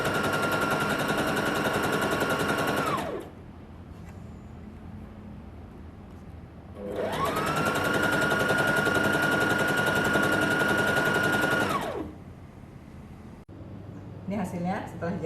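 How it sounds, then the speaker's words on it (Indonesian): A sewing machine stitches the inner leg seam of women's pajama trousers in two long, steady, rapid runs of several seconds each, loud and close, separated by a quiet pause, with some faint talking near the end. "Sekarang kita jahit sisi dalam celana ya"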